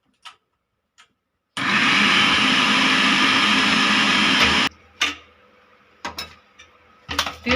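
A kitchen blender purees tomatoes, green chillies and eggplant in one loud, steady whirring burst lasting about three seconds, preceded and followed by faint clicks and handling knocks.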